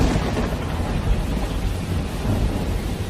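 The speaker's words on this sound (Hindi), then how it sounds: "अचानक मूसलाधार बारिश शुरू हो गई" Sudden torrential rain pours down with rolling thunder, a heavy, continuous rumbling roar with deep low swells and a steady hiss of downpour.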